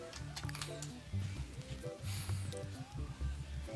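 Rapid, irregular clicking from an old computer keyboard, quiet bursts of keystrokes under a low game soundtrack with tonal music notes, typed in quick clusters without any voice.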